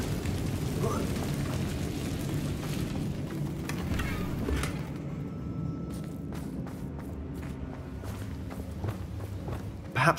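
An Incendio fire spell is cast in a fantasy wizard game, a whooshing burst of flame over a rumbling ambience, followed by scattered thuds and footsteps-like impacts that fade off.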